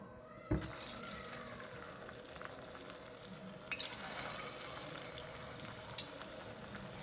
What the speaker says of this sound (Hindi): अब मैं इसमें ये जो मैंने बॉल बनाई है इसको मैं फ्राई करूँगी